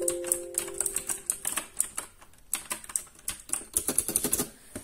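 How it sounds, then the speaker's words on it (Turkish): Rapid typing on a Gametech Black Rider gaming keyboard with blue switches, producing sharp, loud clicky keystrokes in uneven bursts, close up and without talk. "Size tekrar bir dinleteyim klavyenin sesini."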